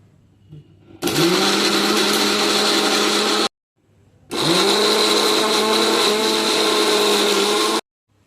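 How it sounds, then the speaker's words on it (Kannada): A kitchen mixer grinder blends ginger into a fine paste in two loud, steady whirring bursts of about two and a half and three and a half seconds, separated by a brief pause, with no voices. "ಇವಾಗ ಇದನ್ನು ಮಿಕ್ಸರ್ಗೆ ಹಾಕೊಂಬರೋಣ ಬನ್ನಿ."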